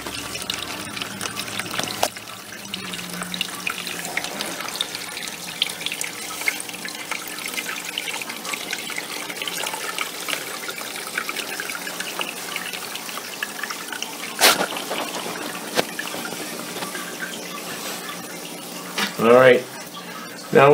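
Water drains from the tube of a brand-new dehumidifier into its bucket, a faint, steady trickle running throughout with a few brief knocks and handling sounds.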